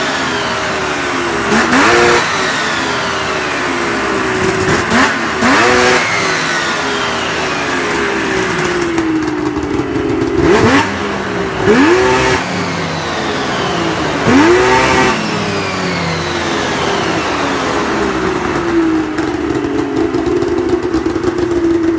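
A 2000 Yamaha SRX 700 with a DG aftermarket exhaust can is revved close and loud, its engine note sweeping up and falling back in repeated blips every few seconds over a steady idle.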